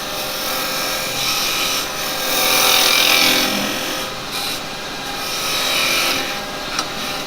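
A carbide woodturning tool cutting wood on a lathe gives a continuous loud scraping, rasping hiss that swells and eases as the cut moves, with no talk.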